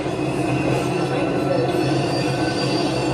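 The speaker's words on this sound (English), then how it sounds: "But this is the 4 train." A New York City 4 subway train rumbles loudly past on elevated rails in the Bronx, wheels grinding and squealing steadily for the whole stretch.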